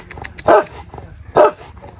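Dogs bark at a rural homestead: two loud, sharp barks about a second apart, with softer yips and whimpers in between.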